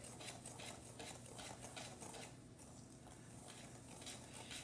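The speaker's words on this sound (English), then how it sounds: "I'm gonna combine it real quick in the bowl, just whisk it" Dry chocolate cake ingredients, including cocoa powder, being whisked in a bowl: a faint, quick, rhythmic scraping and ticking that continues throughout with no talking.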